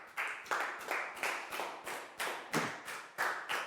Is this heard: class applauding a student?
yes